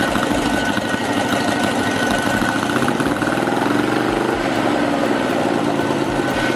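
A Tatra 603's 2.5-liter, 100-horsepower V8 runs continuously, a loud, dense, unbroken mechanical roar that holds steady for several seconds with no voices over it.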